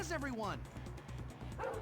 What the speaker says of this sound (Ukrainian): О, собака гавкає, я злякаю.